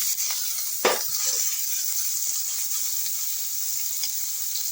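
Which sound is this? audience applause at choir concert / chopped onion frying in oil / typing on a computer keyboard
chopped onion frying in oil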